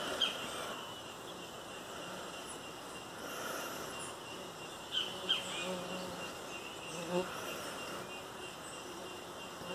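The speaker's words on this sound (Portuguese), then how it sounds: "nem sabe que abelha é essa aí?" Bees of an unidentified kind buzzing steadily and faintly close by, a continuous insect drone with a few slightly louder passes as individuals fly near.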